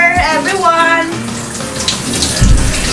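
Shower water running steadily at close range, a continuous rushing spray that briefly sounds like a filling tub, with a muffled thump near the end.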